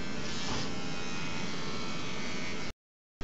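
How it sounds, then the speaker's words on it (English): Electric toothbrush at a dentist's office buzzing steadily and close for under three seconds, then cutting off abruptly into silence before a brief restart at the end. "I think I would really, really like this toothbrush."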